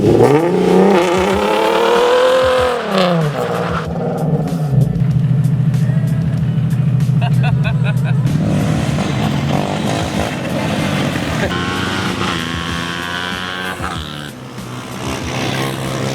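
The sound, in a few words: Nissan 370z doing a burnout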